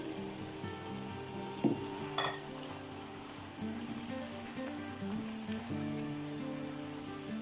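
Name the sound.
chicken frying with tomatoes added, sizzling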